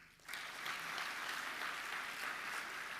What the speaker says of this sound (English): Jameni, please clap for them.